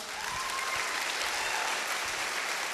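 Continuous, dense audience applause for the team at a company carnival celebration, steady and fairly full, with no voices standing out.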